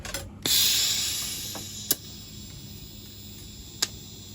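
A tube is welded into a car's frame as a project roll cage takes shape. One short, hissing, crackling burst lasts about a second and a half, followed by a few sharp metallic clicks in a quiet workshop.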